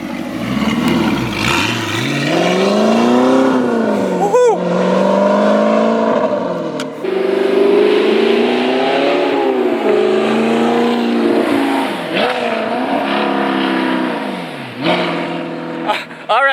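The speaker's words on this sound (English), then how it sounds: "installing the Armytrix full titanium exhaust system on my R8. It sounds incredible." Audi R8 V8 with an Armytrix full titanium exhaust in race mode revs repeatedly, loud and close, rising and falling through several sharp blips with crackles between pulls.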